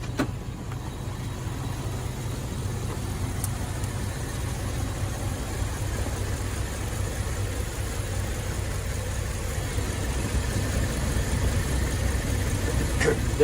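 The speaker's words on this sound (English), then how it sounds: "I'm gonna pop the hood here and take a listen, because I've never heard this engine running so smooth." A Ram pickup truck's engine idles smoothly with the hood open, a steady low hum that stays even and continuous, heard close up with no talking.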